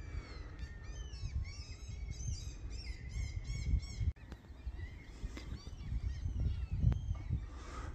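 Gulls at a lake in Tromsø, Norway, giving repeated squawking calls, several overlapping in quick bursts early on and then scattered cries, moderately distant over steady wind and outdoor rumble.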